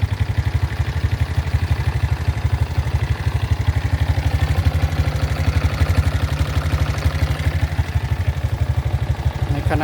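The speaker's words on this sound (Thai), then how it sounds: "ที่รอบเดินเบา ไม่ได้เร่งเครื่องครับผม" A Honda Dream 125 motorcycle with a lighting and charging fault idles steadily without throttle, its single-cylinder beat an even, rapid chug, close and constant throughout.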